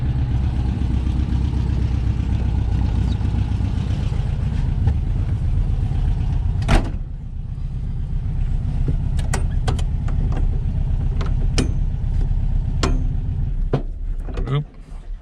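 A 1963 VW Beetle's air-cooled engine drones steadily on a test drive, a low continuous hum through the whole run, with a few sharp clicks and knocks over it and a brief dip near the end.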